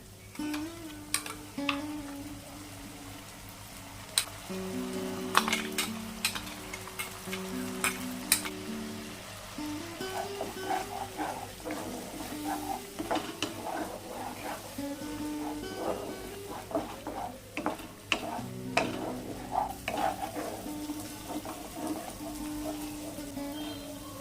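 Tomato paste sizzling in a hot pan for a Bengali katla kalia fish curry, a soft crackling fry with scattered scraping and stirring taps, while a low steady hum sits underneath.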